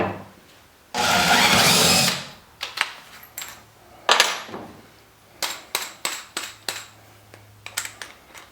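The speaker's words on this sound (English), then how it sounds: "drilling a small hole through here" A small hole is drilled through a PT11 boat part: one sustained whirring burst from a power drill, then a series of short, sharp bursts and knocks, close and fairly loud against quiet surroundings.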